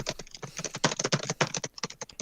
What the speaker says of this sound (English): You're clackety clack today. I'm typing this crap out.